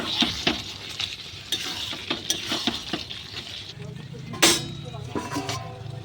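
Garam masala being stirred into potol chingri, a Bengali pointed gourd and prawn curry, in a pan: a spoon scrapes and clinks against the metal in an uneven rhythm over a soft sizzle, with a few sharper knocks.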